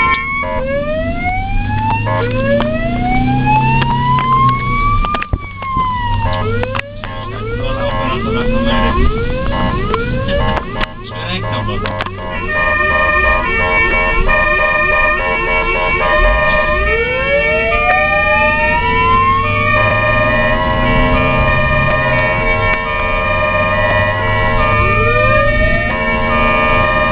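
A loud wailing ambulance siren sweeps up and down continuously, shifting between long rising wails and rapid yelping bursts, close by with traffic rumble underneath.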